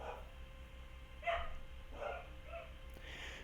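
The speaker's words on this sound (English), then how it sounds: "my dogs are barking really loud" Pet dogs barking in a home, a few short muffled barks at a moderate distance over a low steady background hum.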